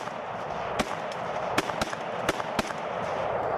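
Sharp gunshots from a Vietnam-era M16 and a Soviet AKM rifle, fired in a low-light demonstration. About six distinct cracks come at irregular intervals over a steady broadband background hiss, with no talk.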